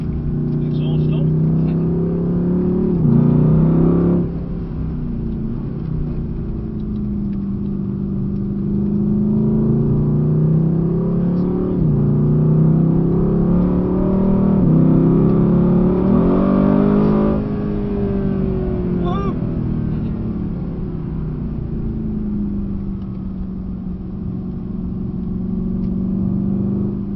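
A Mercedes-AMG GT pulls hard out of a corner on a skid pan and handling course with its exhaust mode switched on, a steady loud engine drone rising and falling under continuous talk inside the car.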